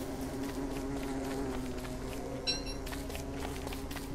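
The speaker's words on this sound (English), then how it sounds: "These bees are, like, terrible." Bees buzzing in the video game Don't Starve, a steady droning hum that runs throughout, with a brief bright chime near the middle.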